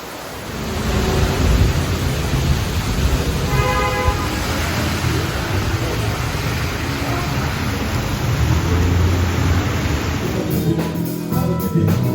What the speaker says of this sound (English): The storm is arrived at Lake Preview.